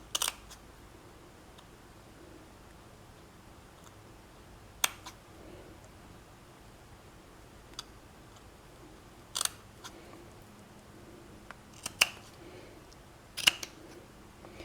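Scissors trim card paper for a handmade note card in a quiet room, giving a few sharp, isolated snips spaced seconds apart.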